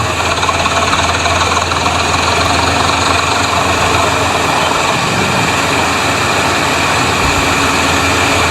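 A Massey tractor engine runs steadily with a loud, low diesel rumble and a slight knock, close by and continuous, with no voices.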